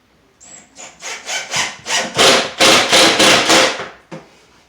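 A screw gun drives a drywall screw at an angle into drywall about half an inch from a corner. A brief motor whine starts it, followed by a close, loud run of about nine rhythmic grinding bursts, with no talking.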